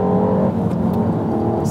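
Peugeot 308 GTi's artificial sport-mode engine note plays through the car's speakers as a brief, loud, smooth hum that rises slightly, heard alone for under two seconds.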